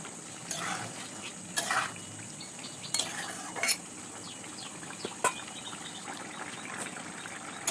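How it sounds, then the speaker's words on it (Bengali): A spatula clinks and scrapes against a pan again and again while spices and vegetables are stir-fried for a fish and greens curry, with a soft sizzle beneath and no talking. "মশলা এখন কষিয়ে নেব সবজির সাথে।"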